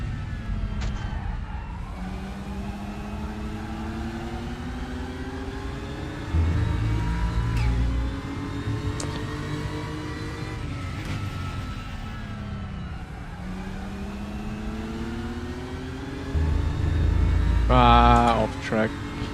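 A simulated Porsche Cup race car at Spa in RaceRoom drones steadily, its engine pitch climbing and dropping through gear changes with occasional sharper revs, while a person talks over it.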